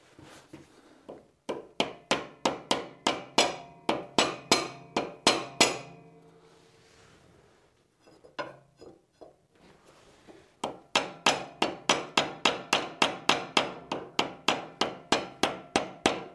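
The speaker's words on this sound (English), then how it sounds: "I'm using a plastic/rubber mallet to just tap this in." A plastic/rubber mallet taps a block heater into a Volvo BM 500 engine in quick, steady runs of close, sharp knocks, pausing briefly in the middle before the rapid tapping resumes.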